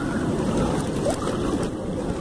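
Seawater washes and splashes over shoreline rocks while someone explores tide pools for chitons and snails. The close, continuous rushing wash is buffeted by wind.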